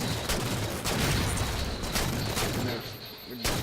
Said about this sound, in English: using that DMR and throwing some plasma grenades